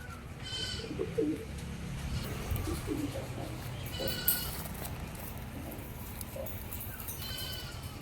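Giribaj pigeons coo in soft, low, continuous murmurs, with a few faint higher chirps over a steady background hum.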